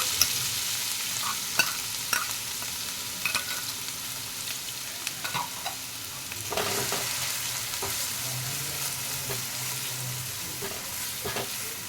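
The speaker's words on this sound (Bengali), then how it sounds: "এবার আমি এখানে কেটে রাখা পেঁয়াজ কুচি দিয়ে দেবো আর কাঁচা লঙ্কা দিয়ে দেবো।" Chopped onion and green chili sizzle in hot oil in a pan, a steady fry hiss with occasional sharp clicks and scrapes of a spatula stirring, close and moderately quiet, with no talking.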